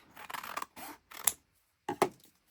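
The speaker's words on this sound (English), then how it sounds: "seal the envelope, fold it, and cut it. Let's just fold it and cut it." Scissors cutting through a folded, sealed paper envelope, making a few separate crisp snips with short rasping strokes and gaps between them, close and clear, without speech.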